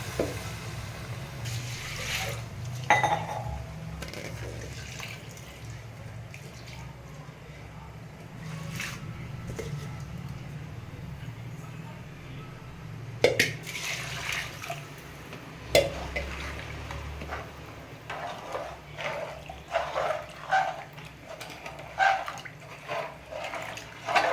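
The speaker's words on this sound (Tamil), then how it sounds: "கொட்டி ஒன்றுக்கு ரெண்டு ஊற்றுறோங்க தண்ணி" Water is poured into a cooking pot of rice and lentils, two measures of water to one, with a continuous pouring and splashing sound broken by a few clinks and knocks close by.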